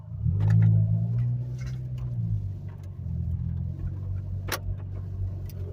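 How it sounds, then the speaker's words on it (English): A car engine rumbles and revs close by, then passing traffic drones steadily with occasional faint ticks and clicks; no talking. "I'm waiting for the cars to go by"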